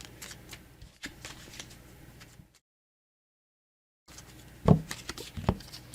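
Tarot message cards are shuffled with soft, papery riffling and light taps, broken by a stretch of silence and then a few louder, closer slaps of the cards.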